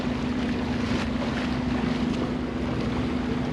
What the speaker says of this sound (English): We're motoring and sailing, and I think we're at 6 knots.